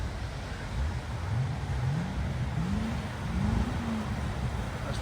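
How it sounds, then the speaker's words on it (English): A Renault car revs its engine while pushing through flood water in Leicester, a rising and falling mid-pitched roar that surges repeatedly over steady low rumble and water noise, close by and loud. "That's Floodwatch clearing his engine"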